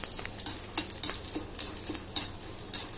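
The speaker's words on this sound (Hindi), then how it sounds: "इनको अच्छे से भूनेंगे।" Garlic, peanuts, chana dal and moong dal roast in a pan with a steady sizzle. A spoon scrapes and stirs in repeated short strokes, close and clear.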